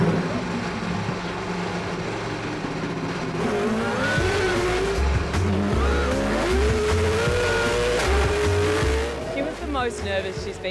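A Supercars race car on a hot lap, with a loud, steady engine roar rising and falling through gear changes and revs, tyre squeal in places, and passengers' voices heard faintly over it.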